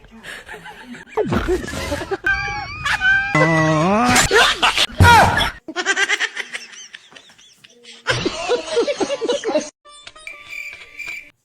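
A cat meows in several drawn-out, wavering cries, close and loud, mixed with bursts of laughter and chuckling.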